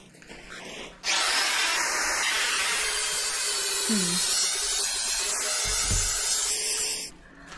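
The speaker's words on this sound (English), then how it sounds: "And then we'll drag this thing over to the milling machine." A milling machine cuts into a huge steel Dragonslayer sword, a loud, steady, hissing whine that starts abruptly, runs unbroken for about six seconds, then stops, with no voices.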